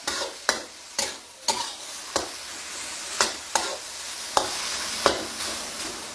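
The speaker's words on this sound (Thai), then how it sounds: "ผัดให้ไก่เนี่ยสุกตึงอีกนิดนะครับ" Chicken thigh pieces stir-frying in a pan with garlic and chillies: a steady sizzle punctuated by about a dozen crisp spatula scrapes at an uneven rhythm, close and fairly loud.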